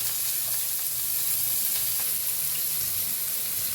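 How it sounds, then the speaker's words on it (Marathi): Onion, mustard seeds, cumin and asafoetida frying in hot oil in a home kitchen pan, giving a steady, close, loud sizzle with a constant crackling hiss that runs unbroken from start to end, with no talk over it. "1 चमचाभर मोहरी घालते, चमचा जिरं, थोडीशी हिंग, 1 कांदा कापून घेतलेला,"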